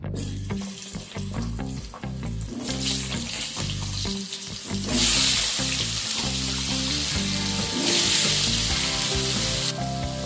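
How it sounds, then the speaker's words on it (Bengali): Cut potatoes fry in hot oil with a loud, continuous sizzle that swells midway, joined by stirring, while steady background music plays underneath. "এবার ওই তেলের মধ্যেই আমি বেশ কিছু পরিমাণ কেটে রাখা আলুকে ভেজে নেব।"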